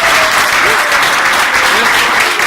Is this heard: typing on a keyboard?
no